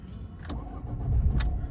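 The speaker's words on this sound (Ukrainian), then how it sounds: "Давайте заведемо нашу автівку." A Ford Focus 2 with a 1.6 diesel engine and about 244,000 km cranks briefly and catches, rising into a low close engine rumble.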